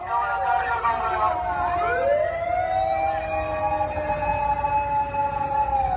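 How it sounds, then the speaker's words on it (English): Several emergency vehicle sirens wail and sweep together, rising and falling in overlapping tones, with a loudspeaker voice faintly mixed in underneath. "they're yelling stuff on a PA while the sirens are blaring"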